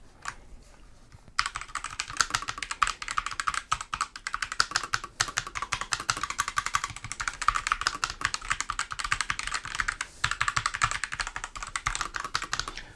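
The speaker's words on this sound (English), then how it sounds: "So let's take a listen to see what the key switches sound like." Mechanical key switches on a Gamemax Pulse MECH keyboard clatter in a fast, steady stream of close, crisp keystrokes that runs for about eleven seconds after a brief quiet start, with no talking.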